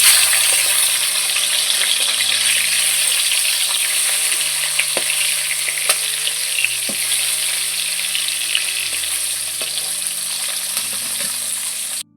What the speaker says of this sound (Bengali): তো এবার কিন্তু আমি মাছগুলো দিয়ে দেবো, দিয়ে খুব ভালো করে এপিট ওপিট করে ভেজে নেব।